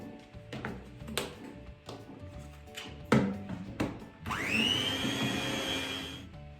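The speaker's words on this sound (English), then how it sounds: "And of course, again, mix it with the electric mixer." An electric mixer beating brownie batter, preceded by a few clattering knocks and taps, then a sustained whirring motor drone that starts abruptly and runs steadily to the end.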